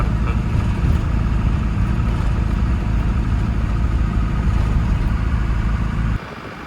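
A car engine running loudly and close by on a safari outing, a constant heavy low rumble that cuts off abruptly near the end and leaves quieter background noise.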